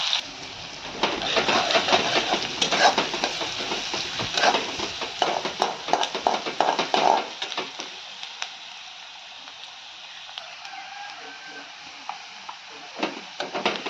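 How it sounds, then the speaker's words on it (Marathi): Chopped onion sizzles in a pan with crackled mustard seeds, cumin and a pinch of hing, as a spoon stirs and scrapes in busy rhythmic strokes before the frying settles into a softer, steady sizzle. "चिरलेला कांदा कांदा आता चांगला परतून घ्यायचा"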